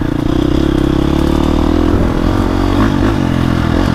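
A 2025 KTM 350XCF dirt bike engine drones loud and close while riding through woods, holding a steady note that shifts and roughens as throttle changes, with scraping clatter from the trail.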